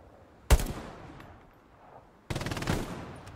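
Two loud bursts of automatic gunfire from the WWII shooter Hell Let Loose, at night around Foy: a sharp volley near the half-second mark, then a longer rattling burst of rapid shots toward the end, with quiet in between.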